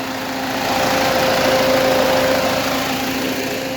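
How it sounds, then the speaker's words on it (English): A warm BMW E46 320d diesel engine (136 hp, VP44 pump) running on waste motor oil, idling steadily, a constant droning rumble with a faint high whine running through it, close and fairly loud. "This is how the warm engine works"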